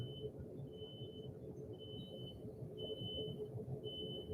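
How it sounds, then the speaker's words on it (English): Faint, high electronic beeps repeat at a steady pace over a low background rumble, with no voices. "I'm hearing a beeping in the background that I don't know if it's something in my house or outside"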